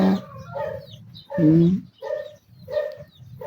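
Several loud honking calls from geese, repeated in uneven bursts close by, with a low steady hum underneath.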